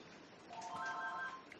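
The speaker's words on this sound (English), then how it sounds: "Hold on, it's my phone." A mobile phone rings indoors, a short electronic ringtone phrase of bright, sustained tones, moderately loud over quiet room noise, with no talking.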